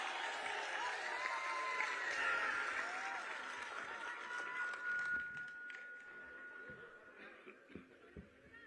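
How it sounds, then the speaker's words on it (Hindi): Loud applause fills a large public rally crowd in Azamgarh, Uttar Pradesh, at a birth-anniversary gathering for Maharaja Suheldev, with sustained dense clapping and crowd noise that gradually thins toward the end. "जोरदार ताली।"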